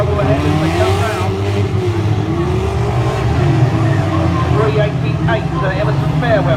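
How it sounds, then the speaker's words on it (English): Banger cars racing around a stock car track at Great Yarmouth on a bonfire night gala: a loud, continuous roar of several engines with tire squeal, under a commentator's voice. "We've got a new leader now as they race down the far side."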